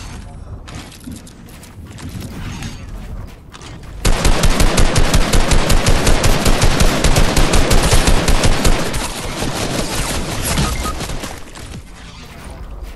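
In Fortnite, a player fires a gun while jetpacking: after a short lead-in, a loud, rapid automatic burst rattles for about five seconds, then fades into quieter game noise, with some talk around it.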